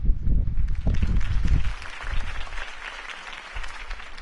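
Crowd applause for Harvey Dent's campaign speech in a Batman Telltale game scene, loud at first with heavy low rumble, then thinning into a softer sustained patter for the remaining seconds.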